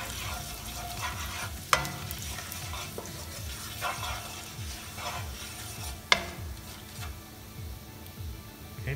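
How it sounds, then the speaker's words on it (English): Cumin seeds and ajwain crackle in hot oil for dal makhani: a steady close sizzle with soft stirring scrapes and two sharp clicks or pops. "the oil is hot and we're going to add cumin seeds and ajwain. Let it brown a bit"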